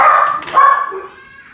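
Several pet dogs bark and yip close by in a kitchen, a burst of loud, overlapping barks that trails off into a whine.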